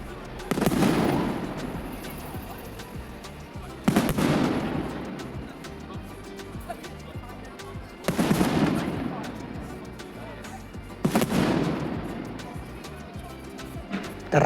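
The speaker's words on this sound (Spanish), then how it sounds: "Bueno, son los famosos fuegos artificiales." Fireworks at the Edinburgh Fringe and Tattoo Festival night, heavy booming blasts at spaced intervals of about four seconds, each rolling off into a long echoing rumble, heard from a distance.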